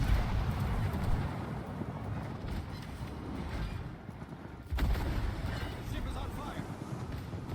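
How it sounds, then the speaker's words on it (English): Shells crash and thud from warships trading armor-piercing fire in World of Warships: dense, steady rumbling battle noise throughout, with a sharp heavy impact burst near the end. "Now they're gonna start firing armor piercing into me again"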